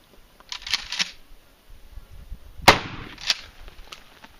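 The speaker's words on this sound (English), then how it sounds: "But first time shooting number 4 buck." A shotgun loaded with number 4 buckshot fires one loud sharp blast outdoors at a range, ringing briefly, set among quieter clicks and handling noises before and after the shot.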